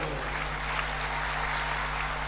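An audience at a Hindu Ram Katha religious discourse claps in a steady, faint wash of applause over a low electrical hum, with no voices.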